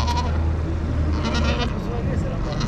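Sheep bleat in a few short calls at a livestock market in the Sahara, set against steady crowd murmur and background voices.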